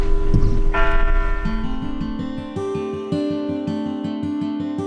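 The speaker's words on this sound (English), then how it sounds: "The bells of St. Mary's." Church bells of St. Mary Church in Claremont, New Hampshire ring out loud and sustained, with a steady series of overlapping, resonant strikes whose hum lingers throughout, with no voices.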